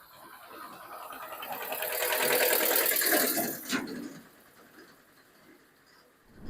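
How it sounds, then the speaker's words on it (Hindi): A tractor passes on a rural road, its engine noise swelling from faint to a broad rushing peak and then dying away, with no voices over it. "बाकी मैं थोड़ी देर पीछे से ट्रैक्टर आ रहा है"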